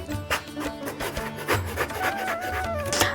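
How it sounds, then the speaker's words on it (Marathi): A knife cuts slits into a whole eggplant for bharit, giving close, repeated rasping and scraping strokes in an uneven rhythm, with faint tonal kitchen hum underneath. "सर्वात आधी आपण वांग्याला काप मारून घेणार आहेत पाहू शकता तुम्ही"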